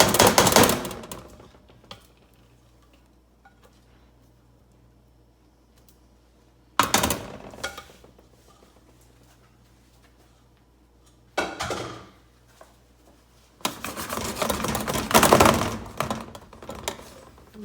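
Several separate bursts of scraping and thudding against metal, with quiet stretches between, as a utensil pushes thick peanut brittle candy around a pan to flatten it.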